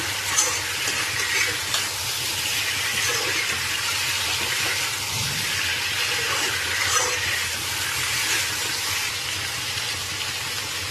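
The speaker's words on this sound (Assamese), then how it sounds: "দিয়াৰ পিছতো মই আৰু অকণমান ভালদৰে ভাজি ল'ম।" Fried potatoes and chicken sizzle in a hot pan, a steady, dense crackling hiss that continues without a break.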